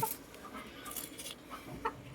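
Short-legged bantam chickens of a fancy-colored old-line strain in Khon Kaen give a few soft, brief clucks close by over a faint background hiss.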